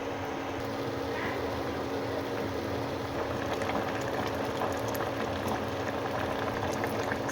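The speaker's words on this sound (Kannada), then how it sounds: "ಸೊ ಈಗ ಇದು ಸ್ವಲ್ಪ ಕುದಿ ಬರಲಿ." Pot of water with cashews and onions at a boil for restaurant-style kaju masala gravy, a steady bubbling and simmering hiss with no talk over it, continuous and close throughout.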